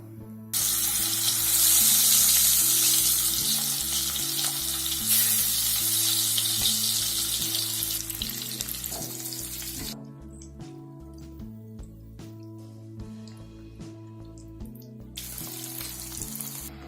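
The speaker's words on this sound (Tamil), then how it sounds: "கடாயில கொஞ்சம் எண்ணெய் ஊத்திக்கோங்க, கொஞ்சம் உப்பு போட்டுக்கோங்க. இப்போ முட்டையை போட்டுக்கலாம்." An egg fries in oil in a kadai with a loud, steady, close sizzle that fades somewhat partway through, while background music plays and no one talks.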